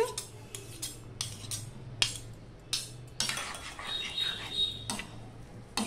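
A ladle stirs okra batter in a metal pot, giving a close series of sharp clinks and scrapes at irregular intervals, with no talking.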